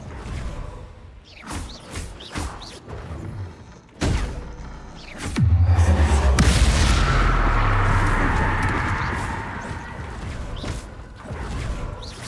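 Bombarda and Confringo explosive spells in Hogwarts Legacy: scattered sharp cracks give way to a whooshing launch and a heavy, booming blast that rumbles for several seconds before fading under more scattered hits.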